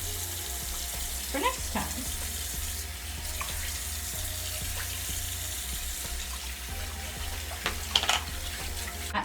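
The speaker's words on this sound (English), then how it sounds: "With the soap, you want to rinse this clean of that dried up makeup" Running tap water splashes steadily into a sink while a makeup brush is rinsed with soap, with occasional handling clatter and a brief spoken remark over the flow.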